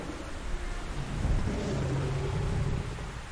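An in-game thunderstorm in Metro Last Light: a steady wash of rain with a deep, rolling thunder rumble swelling midway and lingering, with no talking.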